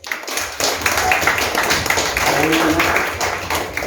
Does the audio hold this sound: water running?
no